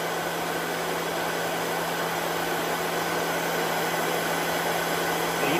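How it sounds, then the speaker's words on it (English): A heat gun runs steadily while warming up before powder painting fishing spinner blades, giving a continuous even blowing roar with a fixed hum, alone and at constant level throughout. "Turn my heat gun on, let my heat gun get warmed up a little bit"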